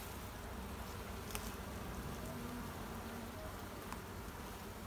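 Honey bees buzz around a hive, a dense steady hum of many insects close by with no voices.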